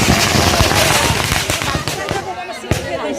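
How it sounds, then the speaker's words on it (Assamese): Firecrackers burst in a fast, crackling string at a wedding, loud and near, with sharp pops that thin out toward the end while voices talk underneath. "বোমা মাৰি কৰি দিছে চলিকেইটাই"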